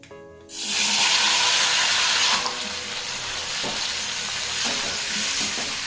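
Chopped tomatoes dropped into a hot tempering of chilli and black mustard seeds for tomato pickle, a sudden loud hiss that settles into steady close sizzling with faint stirring.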